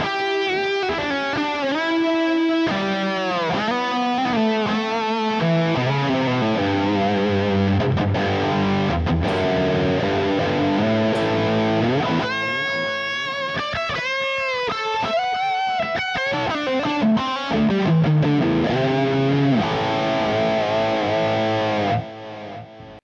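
Distorted electric guitar through a NUX Mighty Plug Pro MP-3 plays melodic lines drenched in ping-pong delay echoes that bounce back and forth, with a continuous wash of effected sound throughout.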